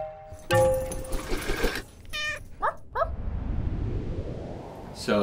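A small 8-week-old kitten with a broken leg lets out a few high, thin meows up close, mixed with handling noises and background rustle.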